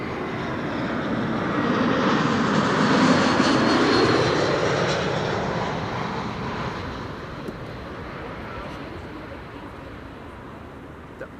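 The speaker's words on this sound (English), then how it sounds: "Vueling flight 8309 arriving from Barcelona, 1 hour and 46 minutes on the way." A Vueling airliner in special livery, an eleven-year-old jet arriving from Barcelona, roars past at Amsterdam Schiphol Airport with a loud broadband engine rush that swells early and then slowly fades as it moves away.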